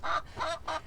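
Hens in a chicken coop, three quick, close, honking clucks in even succession, fairly loud and alone.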